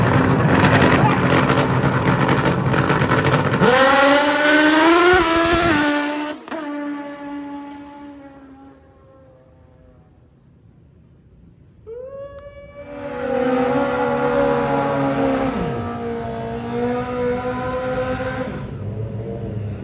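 A drag racing motorcycle at a national event revs loud and close, then launches with rising pitch as it clicks through gears and fades into the distance, before another bike roars up. A voice talks over the noise.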